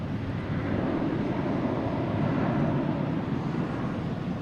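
A WestJet Boeing 737 taking off at Boston Logan Airport, a steady broad roar of jet engines heard from a distance, swelling slightly midway, with wind buffeting the microphone and no talk.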